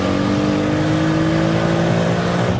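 A 502bhp V6 4Motion VW Golf engine winding up under boost, a loud, continuous rising drone heard from inside the car, steady and unbroken without speech.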